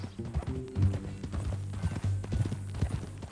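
Horse hooves clip-clop in Red Dead Redemption 2, a steady, close walking rhythm of solid thuds that carries on through the whole stretch with little else around it.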